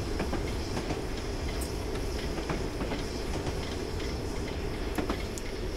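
The wartime Flying Scotsman steam locomotive runs on rails with a dense, continuous rumble and faint rhythmic wheel clicks, steady and unbroken throughout.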